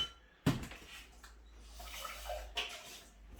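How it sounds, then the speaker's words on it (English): Water pours from a Pinter 2.1 beer dispenser tap in a soft, splashy gush, opening with a sharp knock and running as a quiet, fluctuating trickle with a brief clink near the end. "Again, initial bit is just water."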